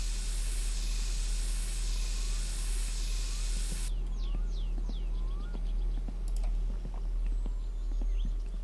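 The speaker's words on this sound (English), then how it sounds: "Gonna find my mosquito spray and just see if that" A mosquito spray can in the My Summer Car video game gives a steady, bright hiss for nearly four seconds, then cuts off, leaving quiet outdoor ambience with faint birdsong.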